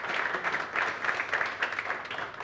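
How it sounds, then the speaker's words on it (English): Audience at the CAF African School Football Championship event in South Africa applauds, a soft, steady wash of clapping heard from a distance. "I think that on its own deserves a big round of applause."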